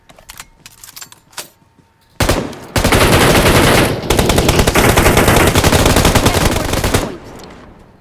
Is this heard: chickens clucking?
no